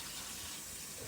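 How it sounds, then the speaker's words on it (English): Water pours steadily onto a pot roast, a constant close hiss and splash with no break. "Let's put some more water on it."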